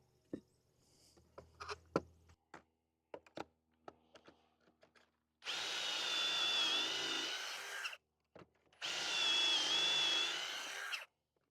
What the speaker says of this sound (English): next we're going to drill pocket holes into our 9-inch 2x4s and our 33-inch 2x4s